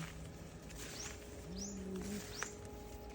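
Birds on a farm with fruiting chili plants sing at a moderate distance, giving several short rising chirps and a low cooing phrase over a steady outdoor background hum.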